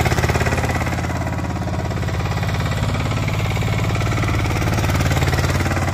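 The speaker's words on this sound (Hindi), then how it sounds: "भाई अब ट्रैक्टर को घुमाने दिखाएगा" Tractor engine running steadily and loud throughout a spinning stunt, a continuous pulsing low rumble with no pauses or talk.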